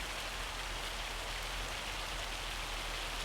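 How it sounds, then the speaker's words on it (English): Hail falls in a Montana farm setting in Farming Simulator 25, heard as a dense, even wash of rain-like patter with no voices and no letup. "Oh yeah, that sounds like hail to me."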